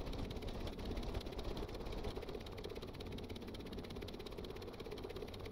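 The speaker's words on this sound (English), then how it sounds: "You hear it's revving up and down and up and down." A low, steady aircraft engine drone in a video game fills the whole stretch, its pitch rising and falling slightly as it revs, with no talking.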